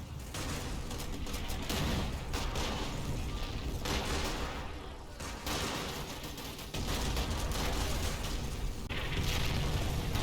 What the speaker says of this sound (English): Mortars from the Fallschirmjäger continue to fall across the battlefield.